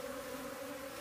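A swarm of bees pouring out of their hive, a dense, steady buzzing drone heard up close and fairly quiet, with no voices.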